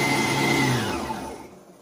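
An electric mixer whips egg whites in a bowl, a steady close whirring hum that holds level and then winds down and fades toward the end.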